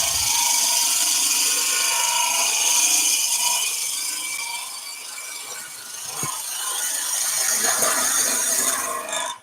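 A woodturning tool cuts into spinning wood with its bevel rubbing, giving a steady, loud scraping hiss that dips slightly midway and then builds again, with no talking.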